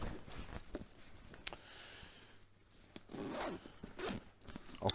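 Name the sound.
zipper being opened on 1990s LBT-1547A Ranger assault rucksack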